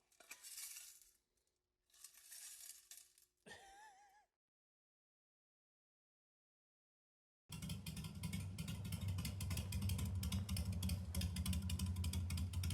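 A motorcycle with a straight-piped exhaust and the front muffler also straight-piped runs close to the microphone, a loud steady engine rumble starting abruptly after a silent gap, with brief sounds and a short voice earlier.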